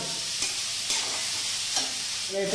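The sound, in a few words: onions frying in a pan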